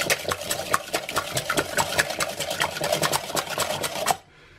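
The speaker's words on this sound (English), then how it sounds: "We're going to start by whisking 3 eggs together." Three eggs being whisked together in a bowl for a chocolate pancake batter: rapid, steady rhythmic clicking of the whisk against the bowl, close and bright, stopping abruptly near the end.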